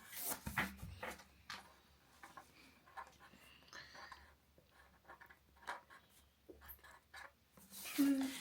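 Pen scratching out a handwritten answer on paper during a family guessing game, soft irregular strokes close by, with faint voices and shuffling around it.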